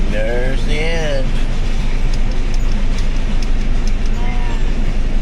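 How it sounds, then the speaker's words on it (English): A two-mile-long southbound Union Pacific grain train of 115 cars and four engines rolls past on the Spine Line at low speed, a loud, steady rumble close by, with voices talking over it. "This train is 2 miles long."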